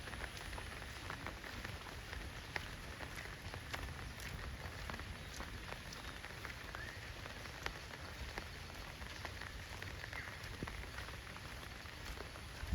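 Steady rain falls in an Odisha village, a soft continuous patter with scattered individual drops ticking on nearby surfaces, heard at a distance and fairly quiet throughout with no talk.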